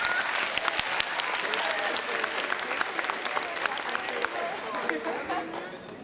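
Audience applauding graduating seniors at a motivational talk, dense continuous clapping from a crowd with some cheering and chatter mixed in, loud and sustained throughout.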